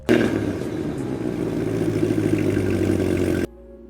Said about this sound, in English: I want you guys to listen to this engine, how it sounds.